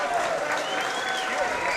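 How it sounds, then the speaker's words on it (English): Brief applause and crowd noise at a combat sports event honoring a fighter, a short steady wash of clapping with voices mixed in. "Round of applause for Malcolm Wallace one more time."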